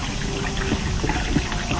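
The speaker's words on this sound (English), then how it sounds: "So I think they are adding water to just mix it up." Water from a full can pours into a large pot of mutton biryani in a busy kitchen, a steady splashing rush that runs unbroken, fairly close.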